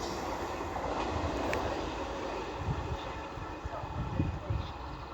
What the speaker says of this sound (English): And it is a 221 Super Voyager.